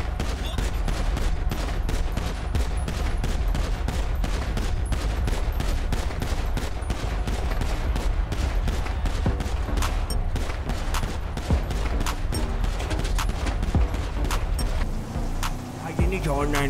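Rapid, continuous bursts of gunfire in GTA 5 crackle throughout, dense and relentless, with a voice talking underneath.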